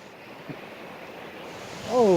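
Heavy, continuous roar of the Thup Thup waterfall in Meghalaya, India, a broad rumbling wash growing louder toward the end as a voice cries out over it.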